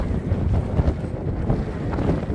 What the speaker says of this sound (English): that wind, oh my goodness